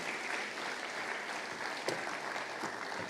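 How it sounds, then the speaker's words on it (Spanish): A church congregation applauds during a sermon, soft continuous clapping heard from a distance, faint and even with one sharp tap near the middle. "Denle el aplauso, denle el aplauso."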